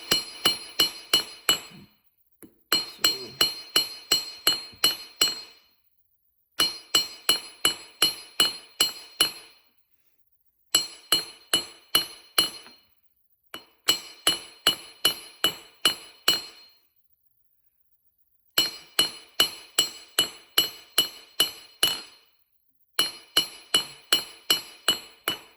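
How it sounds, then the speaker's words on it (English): A hammer strikes the tip of a nail to taper it while drawing it out, ringing metallic blows in quick bursts of about six to ten hits, separated by short pauses, loud and close with no talk. "hammer mostly on the tip to create a taper."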